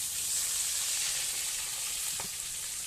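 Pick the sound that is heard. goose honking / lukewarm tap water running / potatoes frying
potatoes frying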